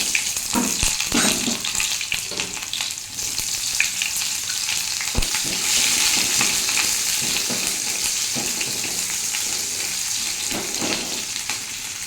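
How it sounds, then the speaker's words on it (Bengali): Close, loud, steady sizzling as onion fries in oil tempered with white cumin in a kadai, with occasional stirring clatters and no voices. "এবার কড়াইতে ওই তেলেই আমি জিরা ফোড়ন দিচ্ছি, সাদা জিরা ফোড়ন দিলাম, একটু পেঁয়াজ ভেজে নেব।"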